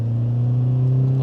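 A 2022 Toyota HiLux ute with a six-speed torque-converter automatic accelerating under gentle throttle, a steady low engine drone holding close and constant throughout, with no speech over it.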